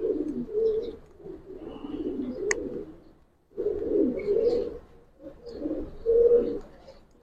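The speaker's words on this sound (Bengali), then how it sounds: "কবুতরটা দেখে মাদিটা।" A female Giribaz-type pigeon in a loft coos close by in repeated throaty bursts, with short pauses between phrases and a faint bird chirp in the background.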